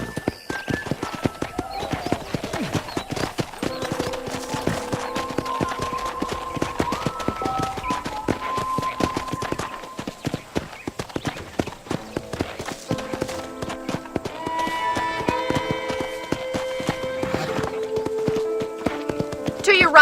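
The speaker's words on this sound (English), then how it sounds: "I picked out a fine horse for you." Rhythmic horse hoof clip-clops at a steady trot in the video game Red Dead Redemption over light background music tones, moderately loud and continuous.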